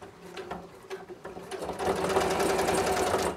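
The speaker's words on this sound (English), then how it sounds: "to go ahead and sew my seam for my hood" A sewing machine stitching the hood seam of a quilted vest, starting with a few short bursts and then settling into a steady, rapid mechanical whir close by, with no talk.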